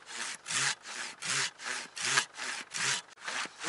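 A hand saw cuts through wood in steady back-and-forth strokes, about eight rasping passes, close and clear.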